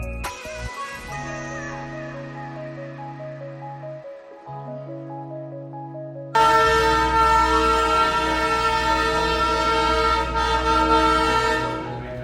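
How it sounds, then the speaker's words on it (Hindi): Darjeeling toy train, a diesel joyride service, backing toward the platform: long sustained horn blasts, then a loud idling diesel rumble with continuous blaring tones close by. "फाइनली मेरी ट्रेन प्लेटफॉर्म की तरफ रिवर्स में आ रही है"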